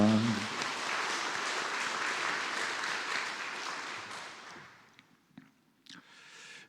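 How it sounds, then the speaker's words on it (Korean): A church congregation claps in encouragement during a Sunday service, a broad sustained round of applause that fades out near the end, followed by a few faint knocks and rustles. "우리 격려의 박수, 응원의 박수 해주시겠습니다"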